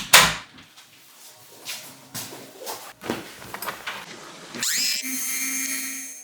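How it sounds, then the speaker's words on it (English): A Dremel rotary tool running at high speed grinds on a borosilicate glass flare in close, intermittent bursts with scraping and handling noises, then settles into a steady high-pitched whine near the end. "I turned my Dremel up real high for this one"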